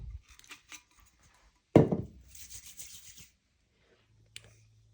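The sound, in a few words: sanding a tumbler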